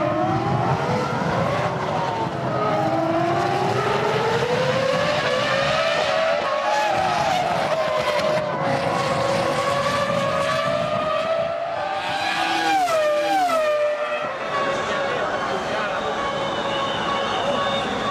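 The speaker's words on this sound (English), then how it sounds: "We have just 6 cars taking the start here." Formula One race cars at the 2005 United States Grand Prix scream past with high, rising and falling engine notes, while a commentator talks over the steady roar throughout.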